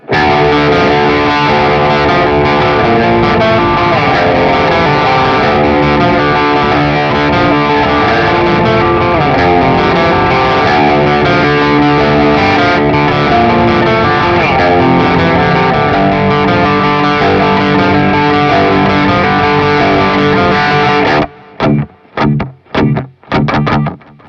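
Heavily distorted electric guitar rings out sustained chords in a slow progression, then ends with a few sharp, choppy stabs.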